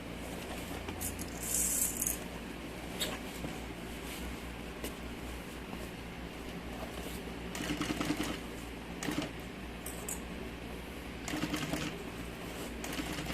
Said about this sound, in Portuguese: Faz a curva bem devagar, tira o clipe, vai costurando.